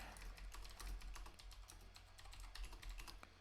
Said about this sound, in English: I do apologize that the typing is boring, but it must be done